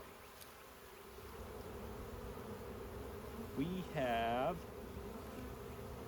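A dense, steady buzzing of many honeybees around a drone frame filled with honey, close and continuous, with a person speaking briefly partway through.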